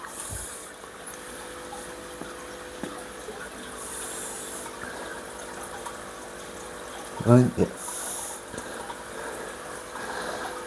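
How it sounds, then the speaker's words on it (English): Hose water running into a shrimp aquarium through a coil sunk under the surface, a faint steady trickle and hiss under brief spoken words, with one short louder splash partway through. "There we go, water going in."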